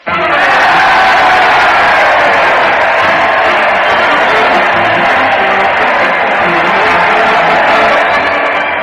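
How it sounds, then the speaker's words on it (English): Loud crowd cheering for comedian Fred Allen as he leads a parade to the Old Town Hall, heard on a 1936 radio show: a dense, sustained roar of many voices with shouts and whoops, steady and close for nearly nine seconds. "Listen to that crowd. They're cheering Fred Allen as he leads his weekly parade to the Old Town Hall."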